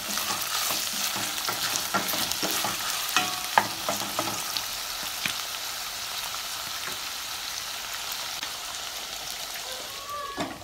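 Minced chital fish curry with salt is stirred in a pan, the sizzle of frying spice paste holding steady throughout with scattered scrapes and clicks of the spoon, close and with no talk.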